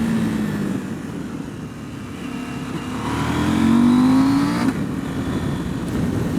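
Motorcycle engine revving up to a rising whine, swelling louder then dropping back to a steady idle, close and loud.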